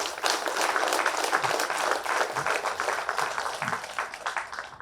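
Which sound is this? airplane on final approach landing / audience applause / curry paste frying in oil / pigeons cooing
audience applause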